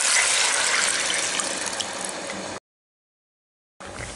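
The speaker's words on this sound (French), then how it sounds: "Vous versez le mélange dans le plat." Liquid honey and soy sauce mixture pouring steadily into a dish, a continuous close splashing trickle for a few seconds, then a gap and a brief resumption.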